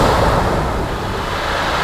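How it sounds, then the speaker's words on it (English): Storm waves break and surge over a steep shingle bank at Sandgate Beach during Storm Arwen, a loud continuous roar mixed with wind buffeting the microphone, heard close up with no voices. "Some waves coming over this quite steep single bank"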